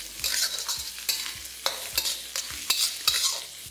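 Vegetables for chicken chopper frying in a pan over low flame, with soft sizzling under repeated scrapes and stirs of a spatula at irregular intervals, close by and with no talk.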